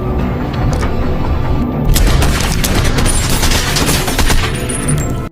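Dense movie shootout gunfire and booming blasts roar continuously in a heavy, loud barrage, with rapid cracks layered over rumbling explosions throughout.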